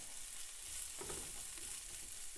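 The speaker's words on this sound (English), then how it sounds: "we're going to just add our onions and jalapenos to our pan" Onions and jalapenos sautéing in a pan for green rice, a soft, even sizzle with a brief stir of the spoon partway through, close but fairly quiet, no voices.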